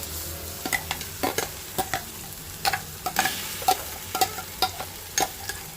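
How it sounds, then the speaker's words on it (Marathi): Onion and tomato puree gravy fries in oil in a pan for Kolhapuri masoor, a constant soft sizzle cut by repeated quick spatula scrapes and taps in a loose rhythm, close up and without speech. "आता मी हे प्युरी सगळं घातलेलं आहे, त्याला तेल सुटूसपर्यंत भाजून घेणार आहे।"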